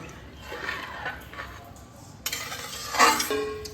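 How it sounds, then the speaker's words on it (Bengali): A lid set down on a pot of basanti pulao (sweet saffron rice with ghee), heard as a few metallic clinks and scrapes, the last and loudest near the end, with no talking. "এটাকে আমি এবার ঢাকনা চাপা দিয়ে 5 থেকে 7 মিনিট কুক করতে দেব"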